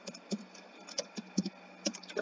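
Keys on a computer keyboard tapped while sheet names are entered into an Excel workbook, a sparse run of light, irregular clicks, close and quiet, with no voices.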